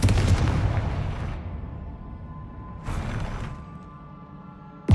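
A Confringo blasting spell explodes in a Harry Potter video game, a loud booming burst that fades away, followed by a second, softer blast and then a sharp hit at the very end.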